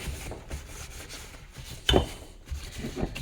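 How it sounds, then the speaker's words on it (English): A cloth wipes excess lubricant off Samsonas gravel rally suspension parts, giving soft, close rubbing strokes with one sharper, louder swipe near the middle. "Wiping the excess lubricant."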